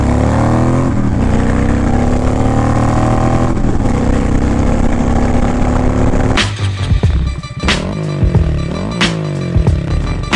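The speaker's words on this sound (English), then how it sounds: "I'm letting the bike warm up" A Honda Fury motorcycle fitted with Cobra Speedster exhaust pipes warms up on a cold, snowy day, its loud, steady low idle rumbling close by, then shifting to uneven blips and pops near the end.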